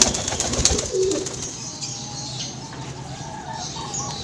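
Male pigeon courting a female dove (derkuku), giving soft, close coos, with brief rustling and light chirps at the start over a quiet outdoor background.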